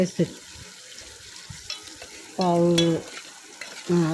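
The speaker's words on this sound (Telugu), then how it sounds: "వేగిన తర్వాత ఆగాకరకాయ అయితే వేసుకున్నాను" Spiny gourd (aakakarakaya) curry frying in a pan with onions, a steady sizzle and stirring clatter with louder sizzling bursts in the second half; speech present.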